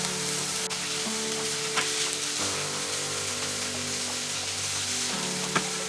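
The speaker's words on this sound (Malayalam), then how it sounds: "ഈ സവാളയൊക്കെ വഴളുന്ന അതേ സമയം കൊണ്ട് തന്നെ നമുക്ക് ഈ ഉരുളക്കിഴങ്ങ് കൂടെ വഴറ്റിയെടുക്കാൻ പറ്റും" Onions and potatoes sizzle and fry steadily in a pan for a samosa filling, a continuous close crackle with occasional stirring scrapes and no talking.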